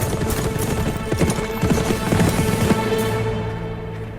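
Horse hooves clip-clop in a historical drama scene, a steady close run of hoofbeats over a low rumbling background that fades slightly toward the end, with no talking.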